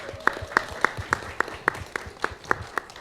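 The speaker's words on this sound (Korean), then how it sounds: "박수로 좀 환호해 주시죠." Audience applause at a city culture project briefing in Uijeongbu, with a small crowd clapping in a steady, fairly even rhythm, close and moderately loud for a few seconds.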